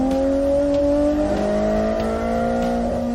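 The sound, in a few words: AZ85 race car engine revving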